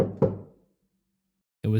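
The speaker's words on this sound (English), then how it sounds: "a knock at the door." A knock at the door, a couple of sharp raps early in the moment, then silence before a narrating voice comes in.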